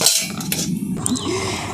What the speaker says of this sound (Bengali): এরপর তাওয়াটা বসিয়ে দিচ্ছি।